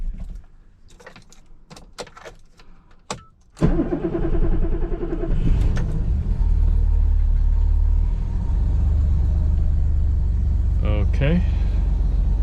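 A Euro 1979 BMW 635CSi with a 5-speed, parked in a garage: a few clicks and clunks, then the starter catches and the engine fires into a loud, steady low idle that continues to the end.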